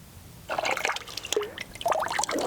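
Oil splashes and trickles out of the separated transmission of an old abandoned big-block Dodge truck, a short, close, uneven pour.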